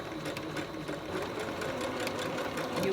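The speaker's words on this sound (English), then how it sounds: "now I'm going to stitch along this short line, making sure that I grab the elastic" Sewing machine stitching a short line through a scrap-fabric face mask and its elastic, a continuous close mechanical hum with a fast, even needle rhythm throughout, steady and alone with no talk.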